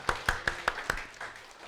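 Brisk, evenly spaced hand claps, five or six sharp beats in quick succession, from a lecture audience at the start of an afternoon class before trailing off.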